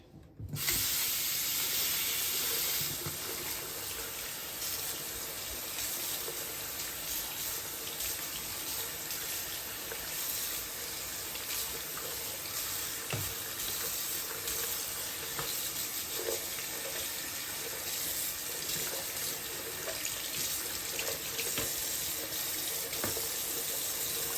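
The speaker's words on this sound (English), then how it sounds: "And then we rinse, and then I will lay them on a towel until I'm done cleaning all of them" Items are rinsed under a running tap in a sink, a steady close rush of water with small splashes and shifts as objects move through the stream, continuing unbroken with no speech.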